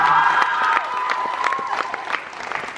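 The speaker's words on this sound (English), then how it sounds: "Give yourselves a round of applause." A live show audience claps and cheers, bright dense applause with scattered whoops and crowd noise, close and loud, slowly thinning toward the end.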